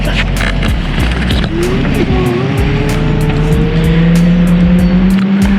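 A Rattan LM500 folding e-bike climbs a decent grade on throttle alone, giving a loud continuous motor whine that rises steadily in pitch under heavy wind buffeting, with rhythmic ticking clicks throughout.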